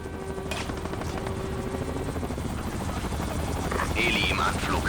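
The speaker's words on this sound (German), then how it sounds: "Heli im Anflug." Approaching helicopter in the video game Ghost Recon Advanced Warfighter 2, a continuous rotor rumble building slightly in loudness, mixed with other game noise and a voice or radio chatter in the background.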